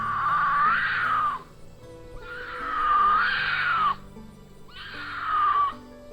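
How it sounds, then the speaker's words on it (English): A mountain lion in Appalachian Kentucky gives three long, eerie scream-like calls, each lasting over a second and separated by short pauses, loud and wavering like a human shriek. "Its eerie call, which can be heard during mating season, has been compared to a human scream."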